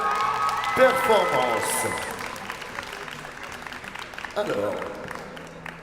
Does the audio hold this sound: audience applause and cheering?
yes